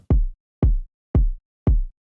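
Four evenly spaced, punchy electronic kick drum hits in a steady four-on-the-floor beat, deep and boomy, with silence between them.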